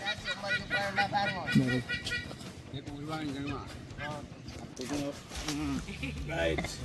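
Honking bird calls sound repeatedly in irregular bursts, fairly close, goose-like and nasal, with brief gaps between them.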